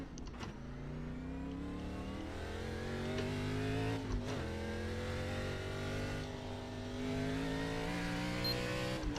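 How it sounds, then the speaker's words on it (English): Race car engine at Bristol in the iRacing sim, a steady loud drone with harmonic tones that rise and fall as the throttle changes, continuous for the whole stretch with no talking. "I'm going to turn up the engine noise a little bit."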